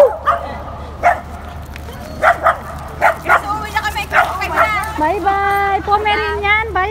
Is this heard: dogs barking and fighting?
yes